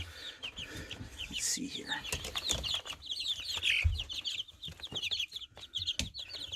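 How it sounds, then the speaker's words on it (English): Young chicks being raised as hens cluck and cheep in a brooder, a busy overlapping chorus of short chirps with a few wing flaps, while a person talks briefly nearby. "Let's take a look at these guys over here, or gals. Pretty sure most of them are supposed to be hens."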